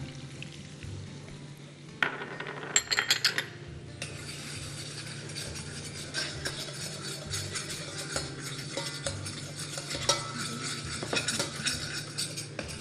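Flour is stirred quickly into butter softened with a little oil to make a smooth roux for a spinach, rice and lemon soup, producing continuous close scraping and rhythmic clinks of a utensil against the pot, with no voices.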